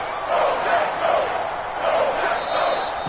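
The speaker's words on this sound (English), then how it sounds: "That just means this crowd's going to get even louder." A huge football stadium crowd at a Texans game against the Packers roars steadily and loudly, a dense sustained wash of cheering swelling and falling slightly throughout.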